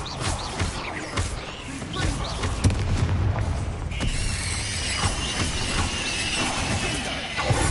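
A Bombarda spell explosion in the Hogwarts Legacy video game bursts out amid dense game sound, with heavy booms and crackling debris layered over a steady rumbling bed.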